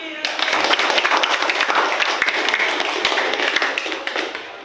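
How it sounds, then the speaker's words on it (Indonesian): A short burst of clapping and applause from a high school class, lively and fairly close, with a teacher speaking over it. "kita kasih tepuk tangan"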